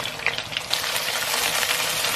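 Garlic, ginger, scallion and spices frying in a hot wok, a dense steady sizzle with crackling pops running evenly throughout, close and fairly loud with no talking.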